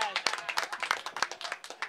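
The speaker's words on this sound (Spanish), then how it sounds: "Ahora sí hay aplausos." Brief scattered clapping from spectators as an expelled player leaves the field at an over-50 league football final, quick irregular claps close by with a voice talking over them.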